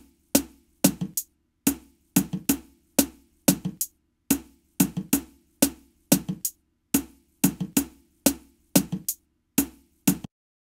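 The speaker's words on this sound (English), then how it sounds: "And then a hi-hat." A programmed zouk drum groove plays in Logic Pro X, with a kick and snare pattern topped by a hi-hat. Short bright hits repeat in a steady, syncopated rhythm, clean and close, with no voices.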